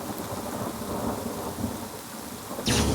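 Steady rain hisses over a rumbling thunder texture in the Sega Saturn game Vandal Hearts, with a louder burst of rain noise swelling near the end and no voices.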